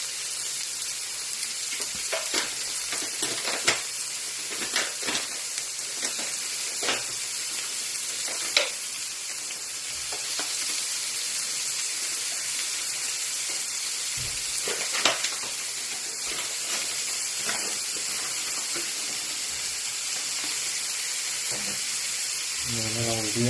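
Dauphinois ingredients stirred with garlic in a pan: a continuous broad sizzle and hiss with scattered clicks and scrapes of a utensil against the pan, steady and close throughout, no talk.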